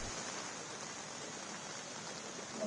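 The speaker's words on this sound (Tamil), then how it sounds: "சென்னை மற்றும் சுற்றுவட்டார பகுதிகளில் திடீர்னு மழை பெஞ்சிட்டு வருது" Sudden rain falls over Chennai, a faint, steady hiss of rainfall with no voices.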